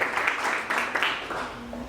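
A church congregation breaks into applause, a dense wash of clapping from many hands in a large room that holds steady for about two seconds and then thins slightly.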